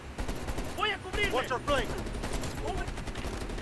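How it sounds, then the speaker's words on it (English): Gunfire rattles through a Call of Duty: Black Ops Cold War firefight, dense sustained shots and bursts under shouting voices, steady and loud throughout. "They're shooting at us!"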